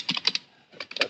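Brief quick keystrokes on a computer keyboard while Python code is typed, two short clusters of close, crisp clicks separated by a momentary pause.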